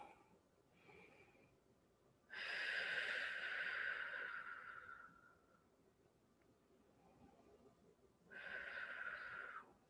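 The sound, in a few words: breathing during a breathing exercise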